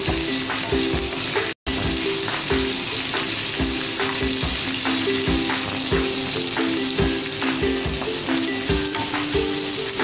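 Mutton pieces fry in a pan for a Bengali mutton kosha curry, a steady dense sizzle with soft stirring scrapes throughout, close and continuous apart from one very brief dropout.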